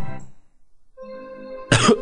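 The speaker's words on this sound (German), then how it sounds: "Müsste ich nicht so husten, will ich jetzt übelst rumfluchen." A burst of coughing at the end of a short stretch from a German Lion King game playthrough, loud and close, following a hum of voiced sound.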